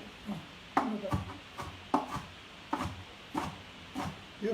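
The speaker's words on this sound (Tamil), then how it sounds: "இது நறுக்கிறது கஷ்டம் தானுங்களேம்மா." Knife chopping okra or greens on a board in a home kitchen, a series of sharp, evenly spaced close thuds with brief pauses, no talk.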